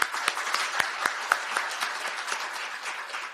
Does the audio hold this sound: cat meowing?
no